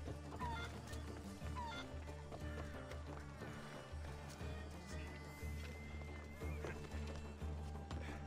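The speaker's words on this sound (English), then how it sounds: "Some level 17 chickens." Chickens clucking in Assassin's Creed Odyssey, faint scattered clucks over a busy in-game background of ambient noise, hoofbeats and movement, with no one talking.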